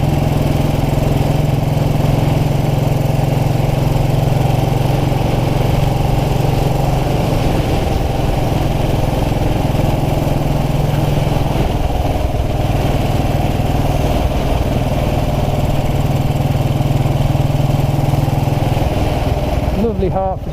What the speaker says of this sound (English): Don't mind revving it, it's a reliable old bike.